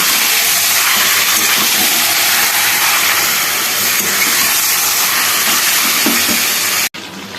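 Marinated chicken cooking in oil over a high flame makes a loud, continuous hissing roar that holds steady before cutting off abruptly near the end.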